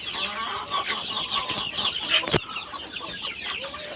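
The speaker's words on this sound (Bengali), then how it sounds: "এটি কিন্তু পাহাড়ি মুরগি" Hill chickens weighing around two kilograms cluck and murmur nearby in a loose, irregular series, with one sharp knock or clatter partway through.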